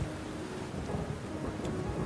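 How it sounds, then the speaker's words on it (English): Heavy rain pours steadily with a low rumble of thunder beneath it, a dense continuous wash of downpour close around the listener with no voices. "my vision was enveloped by a thick curtain of rain"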